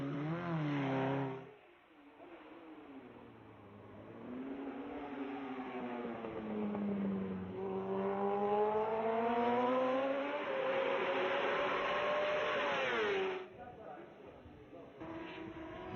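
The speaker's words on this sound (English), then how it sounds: "Kawasaki's ace, Gary McCoy, tried out the improved Ninja ZX-RR." A Kawasaki Ninja ZX-RR MotoGP race bike runs on a track in 2003 testing, its high-revving engine rising and falling as it passes, fairly close and loud, with a voice speaking over it at times.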